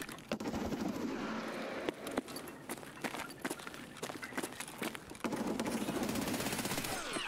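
Rapid bursts of MP7 gunfire in Escape from Tarkov, loud sharp volleys and single cracks scattered across the stretch over a steady noisy background.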